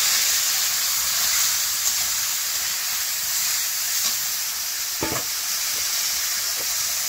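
Onions frying in hot oil in a pan, a steady close sizzle with constant bright hiss, occasional stirring scrapes and small pops, no talk over it.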